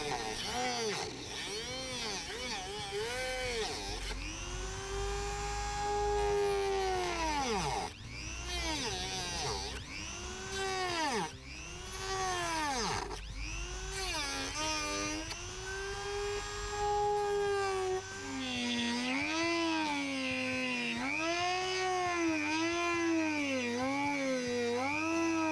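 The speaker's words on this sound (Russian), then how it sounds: "И вырезаем второе отверстие под второй динамик." A power tool cuts a speaker hole in a fiberglass car dashboard. Its whining motor rises and sags in pitch as it bites into the material, staying loud and continuous with short breaks.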